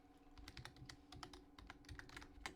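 Rapid clicky keystrokes on a computer keyboard, typed in a quick irregular burst, close and quiet with no voices.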